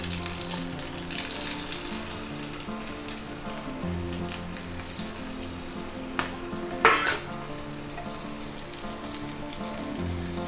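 Finely cut small shallots lightly sautéing in a pan with tempering spices, a constant crackling sizzle with a sharp burst of spattering partway through, no voices.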